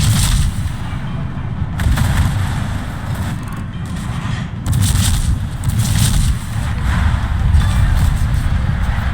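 Naval guns fire HE shells in the World of Warships video game, a Z-23 destroyer battle, heard as repeated deep booms and rumbling salvos layered over a constant low game roar.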